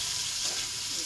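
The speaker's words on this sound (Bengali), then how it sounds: "আমার তেলটা সম্পূর্ণ গরম হয়ে গেছে। এবার লতিটা তেলে ছেড়ে দেওয়া হলো।" Boiled taro stolons sizzle and crackle as they drop into hot oil, a steady loud frying hiss throughout the short moment with no voices.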